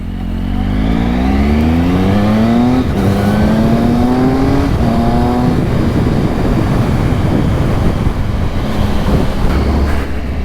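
A Triumph motorcycle engine revs up through rising gears, loud and close, then settles into a rushing drone of wind and road noise.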